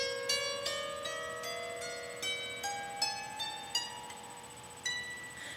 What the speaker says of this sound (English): which means that it sounds like this when you play all of the notes in a row.